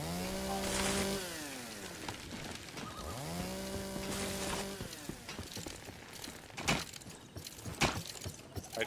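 Chainsaw in the survival game Once Human revs up and settles into a droning whine twice, then gives way to scattered clunks and thuds of in-game activity; no one speaks.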